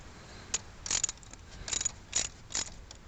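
Wrench tightening a rocker stud on a 2003 3.4 V6 engine in a Venture minivan, heard as about six short, faint ratcheting clicks in an irregular rhythm over quiet background.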